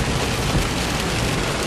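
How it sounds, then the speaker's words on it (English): Heavy rain pours onto a car and leaks inside, making a dense, loud, continuous hiss and patter with no pauses and no voices. "It's raining so bad, and it's leaking"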